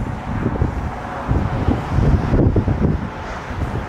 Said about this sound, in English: So I'm sure it's pretty windy